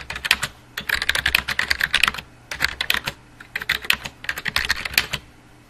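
Someone types a sentence on a computer keyboard, using Shift to capitalise letters: brisk bursts of close, clear key clicks with short pauses between words, alone with no voices.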